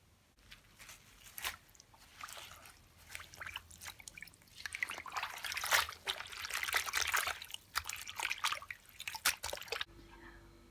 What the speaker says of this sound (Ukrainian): Поки збігає зайва вода з помитої зелені